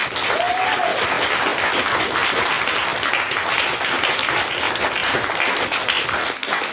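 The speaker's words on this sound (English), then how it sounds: "So please, now give your applause, Mr. Matthew Bradley." An audience claps for a speaker taking the floor at a debate event, a loud, dense and sustained round of applause from a full room that carries on without a break.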